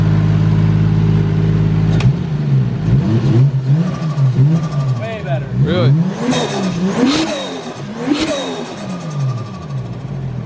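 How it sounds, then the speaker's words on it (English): A Nissan 370Z engine revs repeatedly, rising and falling in pitch after a steady idle, loud and close, with brief speech between the revs. "let's see how it revs now."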